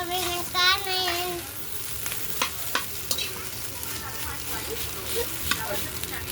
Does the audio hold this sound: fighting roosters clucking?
no